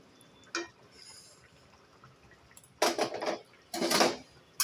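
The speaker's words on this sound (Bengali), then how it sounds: "এখন দিয়ে দিচ্ছি এই যে কাজু বাদাম বাটাটা" Cashew nut paste goes into a pot of simmering chicken rezala: a short clink, then two bursts of scraping and clattering as a spoon works against the bowl and pot, close and moderately loud over a quiet background.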